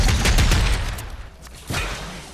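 Gunfire in the Fortnite video game, a dense burst of rapid shots up front that tapers off, then another loud crack partway through, close and dominant with no talking.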